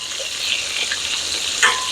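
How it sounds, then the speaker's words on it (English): Chicken fried steak fries in a hot pan, giving a loud, steady sizzle with crackling pops throughout and a brief stronger spatter near the end, with no voices. "So as you can see, it's frying."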